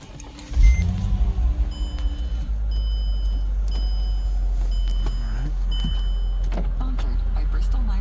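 Mercedes convertible power windows motoring up in a garage, a steady electric whir lasting several seconds beneath a low idling engine hum, with faint tonal beeps recurring in the background.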